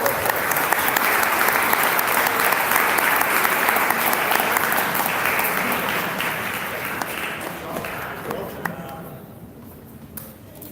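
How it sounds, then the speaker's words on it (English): A large audience at the Junction Tokyo 2019 pitch event applauds loudly and steadily, the clapping tapering off toward the end as a few scattered claps linger. "Please give a round of applause."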